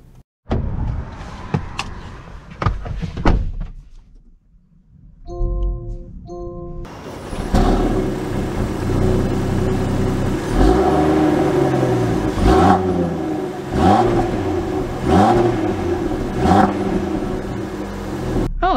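A 2022 Land Rover Defender Explorer Pack starts up with a few chimes, then pulls away with a rising engine note and repeated revving surges, heard from inside the cabin.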